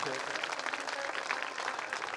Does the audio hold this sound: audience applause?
yes